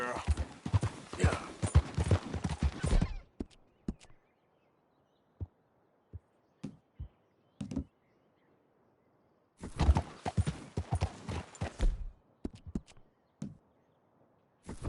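A horse's hooves clip-clop in two bursts in Red Dead Redemption 2, with a few isolated hoof steps and near silence between them.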